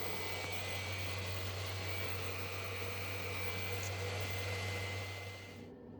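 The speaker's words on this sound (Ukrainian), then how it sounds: "Вентилятори працюють." Cooling fans whir inside a Power One 4000 W power inverter running on a 12-volt supply under a 700 W load after repair, a steady close-up hum that fades away near the end.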